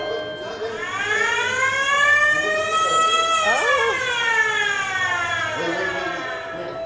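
At the Disneyland fire station, a loud wailing siren effect rises and falls in overlapping tones and sustains for several seconds, with a brief exclamation from a nearby voice.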